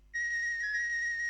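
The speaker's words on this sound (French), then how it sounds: "Une flûte que j'ai un peu destroy." A distorted flute synth doubles a mellotron theme, holding one bright, steady, whistle-like note with a buzzy edge that starts abruptly and sustains for about a second.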